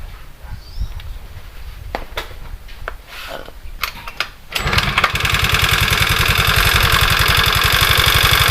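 A Honda Vario 110 scooter with an electrical fault is kick-started: a few clunks and rattles, then the engine catches at about four and a half seconds and runs on in a steady, rough, close idle.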